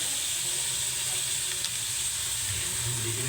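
Chicken adobo with soy sauce sizzles in a hot pan, giving a steady bright hiss and crackle of frying liquid, close and constant throughout with no pauses.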